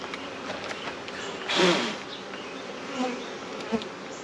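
Honey bees buzz around an open beehive during a hive inspection, a dense steady hum close to the microphone with one bee swooping loudly past and a few fainter passes afterward.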